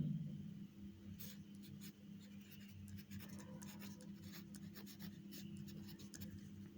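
Steady scratching of a pen or marker writing by hand while working an algebra problem, continuous soft strokes with short pauses over a low constant hum.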